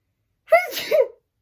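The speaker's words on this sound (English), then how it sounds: "I feel like I have to sneeze" One loud, close sneeze, a quick breathy build then a sharp explosive release, in otherwise silence.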